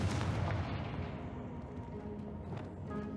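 Confringo spell blast in the Hogwarts Legacy video game, a dense booming burst with a rumbling tail that fades, then a second crack near the end.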